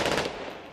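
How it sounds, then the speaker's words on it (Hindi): Rapid bursts of aerial gunfire fired into the air at a Palestinian funeral, a loud crackling volley that fades over under a second with no talk. "बदले की आग में जल रहे लोगों ने जनाजे में जबरदस्त हवाई फायरिंग कर अपने इरादे भी जता दिए"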